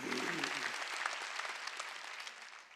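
Congregation clapping at a Wednesday church worship service, a fairly faint burst of applause that tapers off toward the end, with a voice speaking briefly at the very start.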